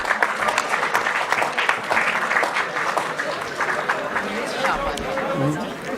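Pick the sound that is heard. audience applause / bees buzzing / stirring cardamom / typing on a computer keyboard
audience applause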